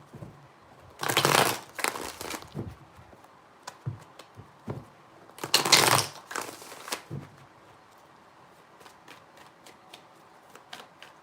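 Tarot cards being shuffled during a reading, two loud bursts of riffling separated by a pause, followed by softer scattered taps and flicks of cards being handled up close.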